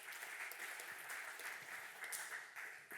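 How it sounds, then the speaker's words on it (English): Audience applause at a startup pitch session of a tech summit, a steady, fairly faint wash of many hands clapping that carries on without pause for the full stretch. "big applause"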